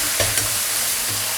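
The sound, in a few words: stir-frying with light and dark soy sauce in a wok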